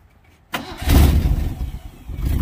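The engine of a 1966 Ford F100 pickup cranks and catches at once, then runs with a rough, rumbling idle and a few uneven revs, close and loud.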